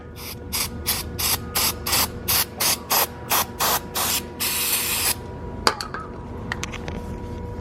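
An aerosol can of brake cleaner sprays in about a dozen short, rhythmic hissing bursts, then one longer spray, on a BMW engine during crankcase ventilation work, followed by a few faint clinks and quiet.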